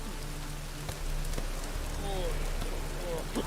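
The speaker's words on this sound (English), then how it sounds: "Looks like rain." Steady rainfall in The Witcher 3 video game makes a continuous soft hiss of drops on surfaces, with a few faint, scattered sounds over the wet backdrop.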